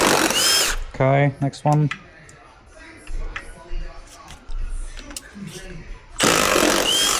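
A power tool removes bolts from an engine bought on eBay, giving short whirring, ratcheting bursts separated by pauses, with someone talking between and over them.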